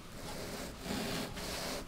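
A sharp hand saw cuts through foam rubber, giving a steady, continuous rasping scrape close by for the whole span, with slight swells in strength and no talk.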